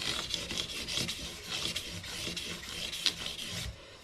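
Guitar frets and fretboard wood being rubbed with 600 grit sandpaper: quiet, close, rhythmic back-and-forth rasping strokes, several per second.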